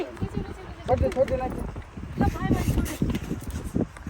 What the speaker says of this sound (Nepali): यु क्यान सी यस्तो धेरै हावा लागिरहेछ यहाँ